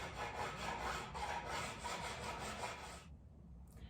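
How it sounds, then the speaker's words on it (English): A metal file scrapes rust off ski edges in rapid, rhythmic strokes, close and continuous for about three seconds before stopping abruptly, no talk. "I grab a file and I just file that rust right off"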